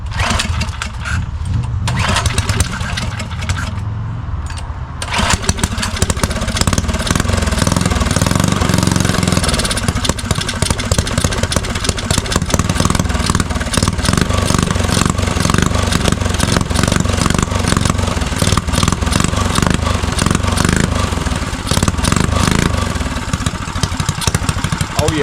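A custom Motovox mini bike engine sputters through a couple of pulls, then catches and settles into a loud, steady, fast-chugging idle that runs close and unbroken for the rest.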